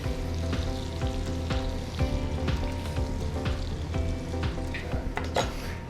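Scallops sear in a hot pan with a steady, close sizzle and frying crackle, joined by a few clinks and scrapes of utensils.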